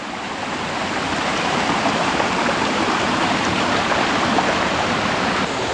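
A waterfall and stream flow strongly in two branches, a loud, steady broadband rush of water with no pauses and no voices.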